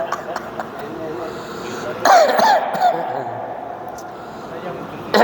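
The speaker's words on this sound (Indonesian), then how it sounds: "Saya mohon maaf sedikit batuk serak ya." A single throaty cough or throat-clear breaks through a man's hoarse, low-level speaking during a religious lecture, close to the microphone.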